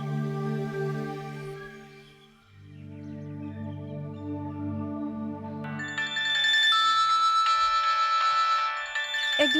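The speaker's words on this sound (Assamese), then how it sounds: "আজি নন ষ্টপ ফোন কৰিয়ে থাকে" A mobile phone rings with an incoming call, playing a melodic ringtone with sustained tones that shift into a brighter, busier tune partway through, clear and steady with no talking.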